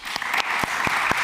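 A summit audience applauds its panel with close, continuous clapping. A few louder individual claps stand out over it.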